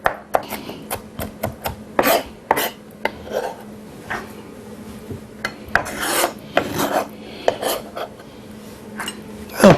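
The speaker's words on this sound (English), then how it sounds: "And we're just going to chop these." Soaked jalapeno peppers being chopped with a teaspoon or tablespoon, giving a run of close, irregular scraping chops and rasps on a hard surface with no talking.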